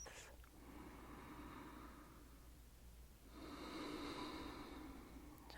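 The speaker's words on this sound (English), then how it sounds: "we'll just start by taking a few nice deep breaths" Slow, deep breaths drawn in and let out in a quiet, close-miked setting, two long airy swells of soft breathing with no talking.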